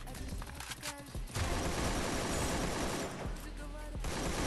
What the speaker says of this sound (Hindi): और मैं लेता हूँ AK-47। और दिख गए बंदे। और ये लग गया हेडशॉट